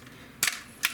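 Two quick sharp cracks close together, from a Sig Sauer ASP20 break-barrel air rifle fired nearby at a target about 20 yards off, each brief and crisp over quiet background.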